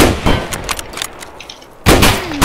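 Mosin bolt-action rifle shots in the Escape From Tarkov video game: two sharp, loud reports, one at the start and another near the end, with a ringing tail between them and no talking.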